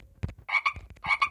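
Cartoon frog croaks from a children's piano game app, a quick run of loud, close, buzzy ribbits in two short bursts, alone without talk.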